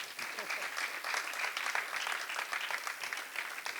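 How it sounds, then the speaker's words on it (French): A theatre audience applauds a performer at a live show, a steady, even wash of many hands clapping throughout at moderate volume. "il faut applaudir quelqu'un qu'on appelle Nyassa"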